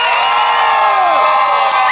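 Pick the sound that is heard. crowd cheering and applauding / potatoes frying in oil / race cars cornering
crowd cheering and applauding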